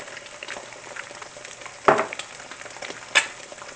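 Eggs frying in butter in a hot pan, with salt and pepper, give a steady close sizzle and crackle, broken by two sharper pops or utensil taps.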